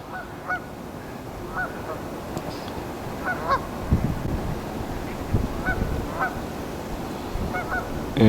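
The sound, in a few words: thousands of geese honking in winter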